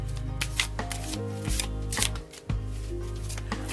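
Tarot cards being shuffled by hand, a run of soft riffling and tapping strokes over steady background music, close and fairly quiet.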